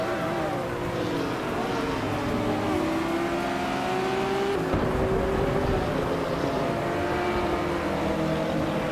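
Race cars, among them a Norma M20 FC Ultralight prototype, roar continuously through a racing video game, engine tones rising and falling as they accelerate, with steady loud drone throughout.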